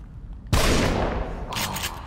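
A single loud shotgun-like blast booms in The Evil Within, a sharp onset followed by a roaring decay and a brief rattling tail, heard alone without talk.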